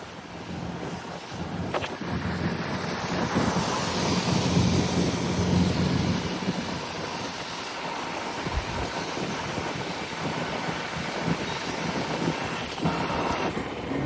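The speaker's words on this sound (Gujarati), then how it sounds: "ઉમરપાડાના જંગલમાં જો વરસાદ છે એટલે વાત નહીં પૂછવાની" A heavy monsoon downpour in the Umarpada forest sounds as a dense, continuous roar that swells and eases slightly, with buffeting wind noise on the microphone and no voices.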